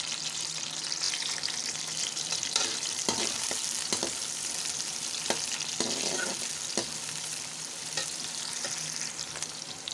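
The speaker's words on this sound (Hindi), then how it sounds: "इसके अंदर मैं प्याज डाल दूँगी। इनको लाइट ब्राउन सा कर लूँगी" Chopped onions frying in hot ghee until light brown, a steady close sizzle with occasional stirring clatters and scrapes in the pan and no speech.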